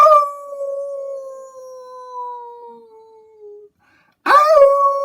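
A voice imitates a wolf howl with a long, clear, slowly falling note that fades out, then breaks off briefly before a second howl begins loudly and close.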